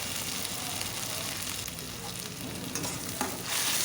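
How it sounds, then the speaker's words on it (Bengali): Spice paste of green chilli and ginger-garlic fries in oil over a low flame, hissing softly while a spoon stirs and scrapes through it, close and steady. "এই মশলাটাকে দিয়েও ভালোভাবে একটু লো ফ্লেমেই ভালোভাবে নেড়ে নিতে হবে।"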